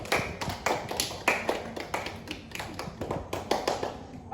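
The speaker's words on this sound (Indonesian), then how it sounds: "Sebelumnya boleh tepuk tangan dulu untuk kakak Kasih." A small audience gives a short round of applause, with quick, irregular hand claps that stay moderately loud for a few seconds.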